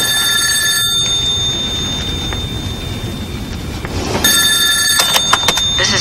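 A telephone rings with bright electronic trills, one ring early, a long gap, then another burst of ringing near the end, set against a steady low background hum.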